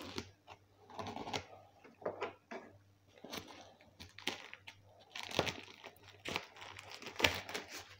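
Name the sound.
cutting open a package with a paper cutter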